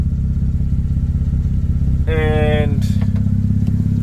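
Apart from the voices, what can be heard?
Mazda RX8 engine idling at 1,000 RPM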